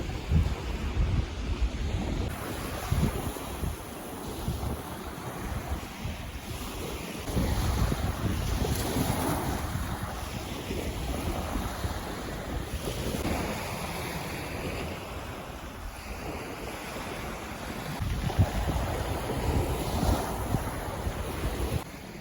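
Black Sea surf rolling onto the shore at Chornomorsk in midday wind, a steady wash of breaking waves with gusting wind noise throughout and no voices.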